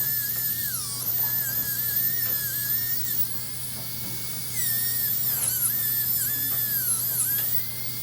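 A dental drill whines steadily as it trims excess flattened metal from a master cast die, its pitch rising and dipping with load, close and loud throughout with a brief easing midway.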